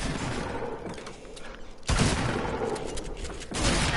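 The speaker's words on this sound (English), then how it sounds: "I heard those gunshots are right behind me." Bursts of gunfire in a video game, with a sharp loud volley arriving midway and another near the end over a steady background of game noise.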